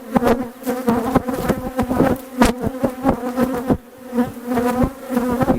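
Honeybees swarm with a loud, dense buzz close by during a hive inspection of a Demaree split, the drone pulsing unevenly as bees move around the open frames.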